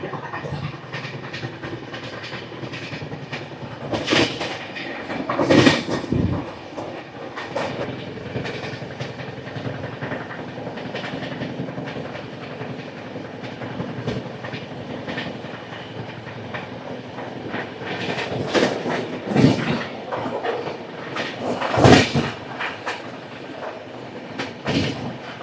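The Machilipatnam–Dharmavaram Express runs at speed past Yerraguntla, heard from inside as a steady rumble with rhythmic clickety-clack of wheels over rail joints and louder bursts of clatter now and then.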